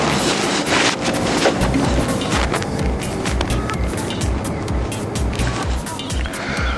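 A car drives along the road, steady close engine and tire rumble with broad road noise throughout, no distinct gear changes or horn.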